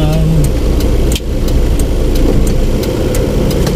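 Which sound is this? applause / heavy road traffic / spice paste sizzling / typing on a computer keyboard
heavy road traffic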